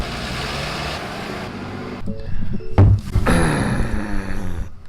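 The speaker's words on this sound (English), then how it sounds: "Man, that's a loud truck." A loud truck rumbles past outdoors, its engine swelling to a heavy close roar before tapering off, with a brief sharp knock in the middle.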